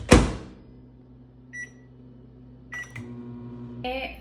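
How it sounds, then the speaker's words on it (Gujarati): A microwave oven heating penda mixture, a sharp clunk at the start, then a steady low hum with a few brief electronic beeps and clicks near the end, close and quiet. "હું માઇક્રોવેવમાં મૂકીશ 2 મિનિટ માટે"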